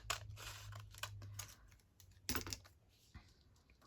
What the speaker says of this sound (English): So I'm going to cut this along here.